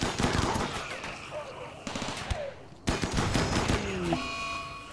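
Rapid automatic gunfire during a battle in the video game RimWorld, sustained bursts of sharp shots with a brief lull, then renewed firing and a few crashing impacts.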